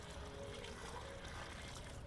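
Water trickles and pours steadily from a bucket onto the soil around a newly planted young tree, a soft continuous splashing, faint and unbroken.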